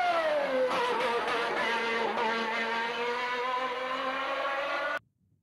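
Turbocharged racing car engine exiting a corner with the throttle held pressed to keep gases flowing through the turbo, a loud continuous buzzing drone whose pitch dips then rises steadily before cutting off abruptly, alone with no talk.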